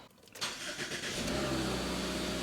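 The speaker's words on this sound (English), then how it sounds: "Let's start the vehicle." A Subaru Crosstrek engine cranks and catches, then settles into a steady running rumble, close by and fairly loud.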